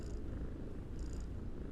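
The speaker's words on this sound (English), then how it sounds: "the sound of purring used to put me to sleep like crazy" A cat purrs close up in a soft, continuous rumbling drone that rises and falls gently with each breath.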